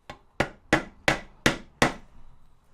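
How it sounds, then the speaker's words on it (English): A trusty mallet taps a part into place on a 1/6 scale Armortek Tiger 1 RC tank turret and gun plate assembly, giving six sharp, evenly spaced close knocks. "trusty mallet."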